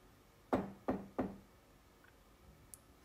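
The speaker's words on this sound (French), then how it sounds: "Elle frappa à la porte" Three firm knocks on a wooden door in an even rhythm, close and distinct, followed by quiet with a faint click near the end.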